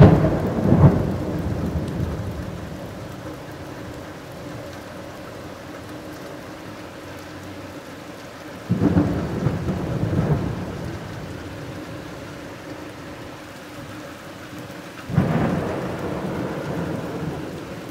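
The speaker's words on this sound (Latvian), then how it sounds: "Tā ir krusa." Heavy thunderstorm with hail in Jelgava, Latvia: steady hiss of hail and rain throughout, broken by three loud thunder rumbles, each rising sharply and then rolling away, with no voices.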